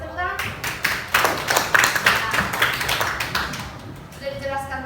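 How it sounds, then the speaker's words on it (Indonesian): A classroom of students claps hands together in a lively burst of applause for about four seconds, then it trails off as the room settles. "kasih tepuk tangan"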